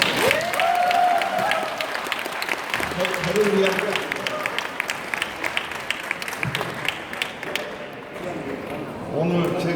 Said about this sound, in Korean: 한번 박수를 좀 세게 한번 주세요